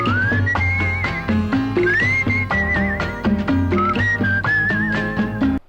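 A whistle carries the pallavi melody of a classic Tamil film song in place of a voice, a clear sustained tune over steady rhythmic orchestral accompaniment, prominent and continuous with no talking.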